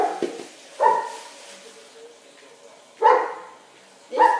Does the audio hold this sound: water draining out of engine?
no